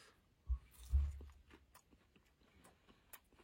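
Egg pakora is chewed close to the ear, with two loud crunchy bites near the start, then softer wet chewing that fades, and no talk.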